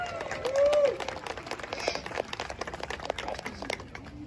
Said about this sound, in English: give her a big giant round of applause